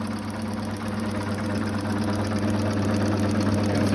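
Reciprocating pump running in a lab, its piston moving up and down very fast, making a steady, loud mechanical drone with a rapid knocking pulse throughout, gradually getting slightly louder, no talk.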